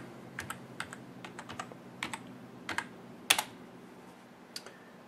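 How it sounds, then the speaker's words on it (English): A password is typed on a computer keyboard, about a dozen light key clicks in an uneven rhythm, close and clear over a quiet background hum, with no speech. "Enter your password."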